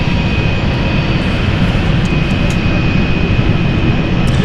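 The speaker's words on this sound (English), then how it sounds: "Also moving, which is German, is the Lufthansa flight." Lufthansa jet airliner on the Frankfurt return flight moving at London City Airport, a steady loud engine roar with broadband rumble and a constant whine throughout, no talk.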